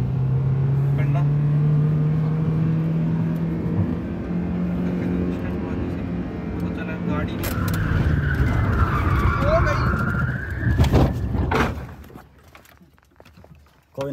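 A Honda Civic engine screaming at about 5000 rpm while drifting on dusty ground, loud and close with tyre skidding, then dropping away near the end as people talk over it.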